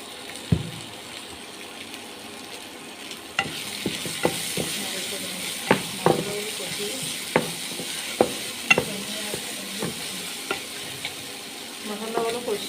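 Spices with turmeric sizzling and frying in a pan for samosa and potato filling, a steady hiss broken by repeated sharp scrapes and clicks of stirring, near and fairly loud, no talk.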